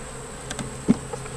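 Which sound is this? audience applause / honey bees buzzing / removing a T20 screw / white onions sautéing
honey bees buzzing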